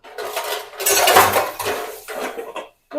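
Metal vessels and pots clanging and clattering in a home kitchen, a burst of loud ringing clinks and scrapes in quick irregular succession, close to the listener, ending in a short pause and one more clank.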